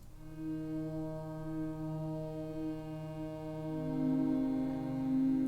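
A Diva soft synth pad preset sounds alone as a steady sustained harmonic chord, soft and even, swelling slightly louder near the end with no voices.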